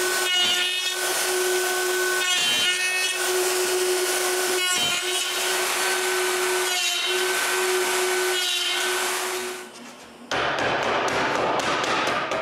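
Dovetail tails cut into wood with a power tool, a steady whining tone interrupted by brief drops as the cut is repositioned, ending in a rougher burst of cutting noise.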